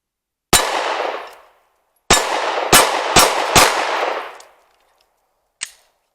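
A Stoeger STR-9SC subcompact pistol fired at a target, heard as one loud, close shot, then a quick string of four with ringing decay, and a fainter report at the end, no talking.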